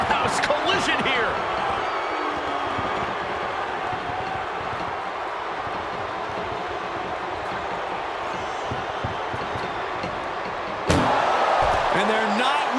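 In a WWE 2K25 ambulance match, an ambulance door slams shut with a sharp bang at the start and another heavy slam near the end, over a steady roar of arena crowd noise and commentary.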